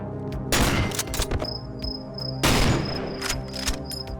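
Sniper rifle shots in the horror video game Cry of Fear: two loud, sharp blasts about two seconds apart, each trailing off into a rumbling echo, with a thin high tone ringing between them.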